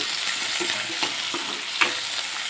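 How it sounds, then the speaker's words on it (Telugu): Garlic and mint frying in a pan give a steady, close sizzle, with a few soft stirring scrapes and clicks spaced through it. "కొద్దిగా వేయించుకోవాలి చూడండి ఇలా కొద్దిగా మగ్గాక"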